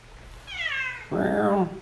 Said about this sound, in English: And the cat's coming right up here.